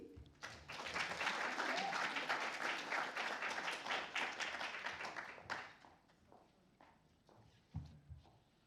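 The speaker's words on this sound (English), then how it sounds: "So a big round of applause" Audience applause at a peace fellow seminar, a dense burst of clapping that swells quickly, holds for about five seconds, then fades into scattered claps and a few footsteps.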